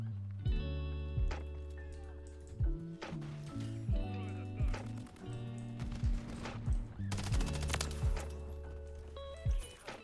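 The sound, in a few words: gunshots in video game Modern Warfare 3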